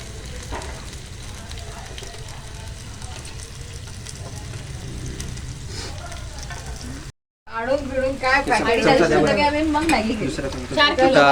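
Prawns frying in a pan for kolambi fry, a steady loud sizzle that cuts out briefly and then returns, while people talk in the background.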